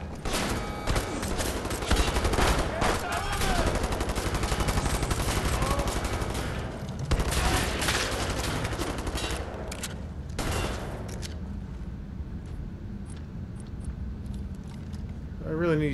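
Automatic and machine-gun fire in Wolfenstein: The New Order, dense rapid bursts of close, loud shots that thin out toward the end, with someone talking over the gunfire.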